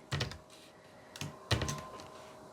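A few quick bursts of keystrokes on a computer keyboard, close and soft, with brief gaps between clusters of clicks and no talking.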